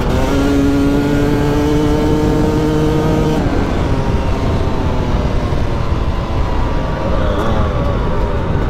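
A TM300 dirt bike engine revs hard nearby, a loud sustained roar with rising and falling pitch as it accelerates and shifts, running continuously throughout.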